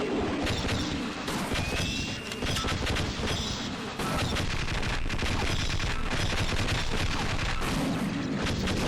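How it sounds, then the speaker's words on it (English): An automated ceiling turret in Half-Life fires on aliens in a nest area, a loud, sustained rattle of rapid machine-gun bursts with a brief dip midway before the firing resumes just as dense. "flip the switch to activate a ceiling turret to kill them"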